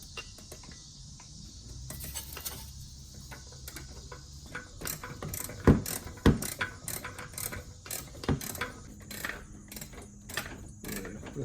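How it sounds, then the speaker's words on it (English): A ratchet fitted with an extension and swivel clicks against 10mm bolts on an oil plug of a 6.2L Cadillac Escalade V8, with sharp irregular metallic ticks and clanks over a faint background, close by. "we used an extension with a swivel in order to reach the 10mm bolts on the plug"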